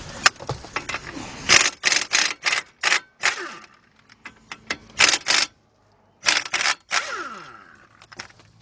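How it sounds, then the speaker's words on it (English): A pneumatic impact gun with a 15mm deep socket on a 1/2-inch drive works the caliper bracket bolts on the left front of a 2014 Chevy Impala, firing in repeated short rattling bursts with brief pauses and clicks between them, close up. "Get my air gun."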